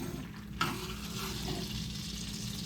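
Butter sizzles hot in a pan as a burger is basted, a steady close crackling fry that jumps sharply as the spoonful of butter hits, then continues evenly.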